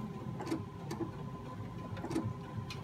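Sewing machine stitching a thread-painted tree branch, backstitching in short runs, giving faint rhythmic ticks and clacks over a low mechanical hum.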